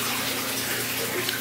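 Water from a spray bar with roughly four feet of holes, running as the circulation return in a 1210-gallon DIY plywood aquarium, gives a steady close rushing splash with a low pump hum beneath it and no pauses.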